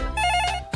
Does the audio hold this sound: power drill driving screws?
no